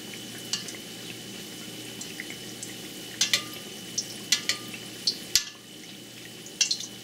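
A shrimp katsu patty shallow-frying in a pan while hot oil is spooned over the top, with a quiet steady sizzle broken by sharp crackles and pops, some louder bursts clustered near the end.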